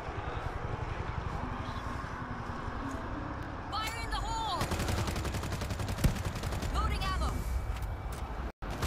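Soldiers' gunfire in the zombie video game World War Z: a dense, continuous rattle of automatic fire fills the whole stretch, with a few brief sharper bursts and voices mixed into the din.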